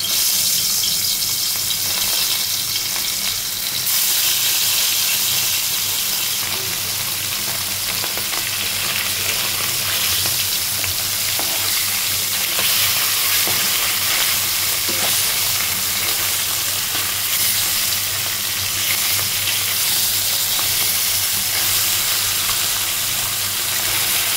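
Spices frying for a punti fish curry with tomato and peas, a steady broadband sizzle with occasional stirring scrapes that holds evenly for the whole stretch, close and fairly loud with no talking.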